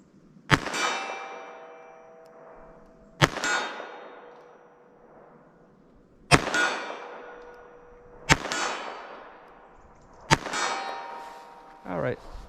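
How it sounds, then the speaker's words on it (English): Five sharp .38 Special shots ring out at regular intervals at a 25-yard range, each a crisp crack with a metallic ringing tail that decays over about two seconds. "let me start with the 38 special again and see if there's a different shift with that point of impact"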